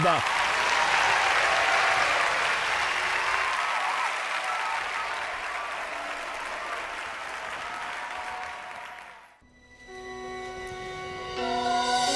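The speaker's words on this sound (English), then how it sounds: "Let's give them all a round of applause." A theatre audience at the world premiere of a stage musical bursts into a full round of applause. The dense clapping is strong at first and slowly thins for about nine seconds, then fades out as sustained orchestral music begins.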